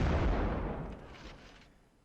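Cannon fire in the Napoleonic Wars video game during a line battle, a loud booming blast that decays into a long rumbling tail over about two seconds, with no talk over it.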